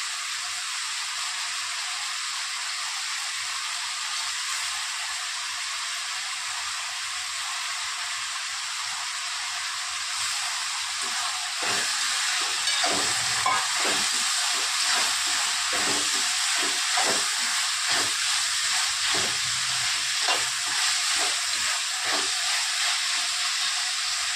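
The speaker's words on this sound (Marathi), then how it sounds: "आता टाकायचं बटाटा." Potatoes drop into hot oil in a home kitchen, starting a loud, steady hiss that swells into dense, crackling sizzling and bubbling and carries on without a break.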